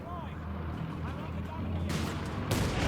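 Heavy battlefield gunfire aimed at a squad of German grenadiers in Company of Heroes 3 rolls through as a dense, rumbling barrage. A commentator talks over it, and the firing swells into loud bursts near the end.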